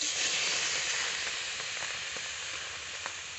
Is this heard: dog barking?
no